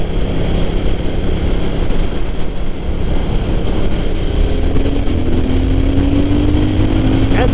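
A Triumph Thruxton engine pulls above 4,000 RPM, a loud, continuous rasp mixed with wind rush, with a rising tone climbing near the end.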